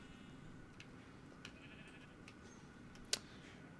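Sheep in Minecraft bleating faintly a few times, with a short sharper call near the end, all over a steady low background hum.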